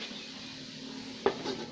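A metal lid settles onto a pot of baked catfish with a single sharp clank near the end. Before it comes a quiet, steady kitchen hum.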